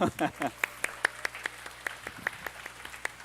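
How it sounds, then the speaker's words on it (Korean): Scattered clapping from a middle school congregation at a Korean church youth worship service, following a voice at the start, with sparse, fairly even claps rather than a full roar. "다 같이 박수 한번 할까요?"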